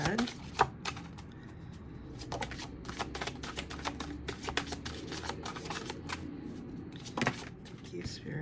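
Tarot cards being shuffled by hand in a quiet room, a run of soft riffling flutters and crisp card slaps spread irregularly through the stretch, with a faint voice nearby.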